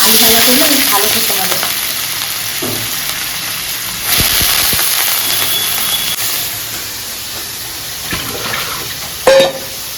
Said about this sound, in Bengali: আলু ভাজাটা একটু হোক